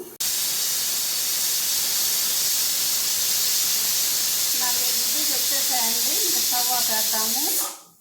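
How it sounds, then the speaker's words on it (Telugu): A mixer grinder whirs steadily, grinding shallots with green chilli and coconut into a paste; the loud broadband motor noise runs nearly the whole time and cuts off at the end, with a voice talking over the latter part. "ఈ చిన్నపాయలు వేసి మళ్ళీ మిక్సీ తిప్పుదాం"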